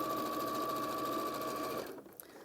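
A sewing machine runs steadily in a continuous stitching burst with a strong mechanical whir, then stops abruptly near the end, leaving a few faint handling clicks.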